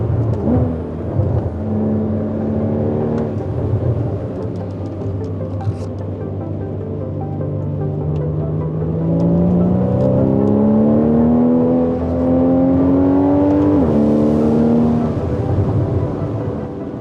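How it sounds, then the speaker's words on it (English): The six-cylinder engine of a Porsche 981 Cayman GTS revs and pulls through the gears, its rising tone swelling, dipping and climbing again, heard from inside the car with no talking. "I never realized how much I would enjoy the note of the 6-cylinder"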